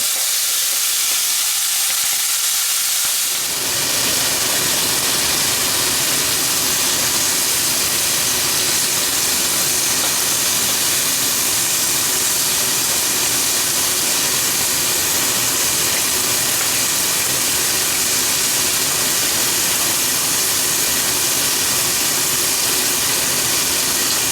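Four strips of bacon frying flat in a hot pan on a stovetop, a loud, steady, dense hiss and crackle that starts abruptly after a few quiet seconds and holds on with no talking.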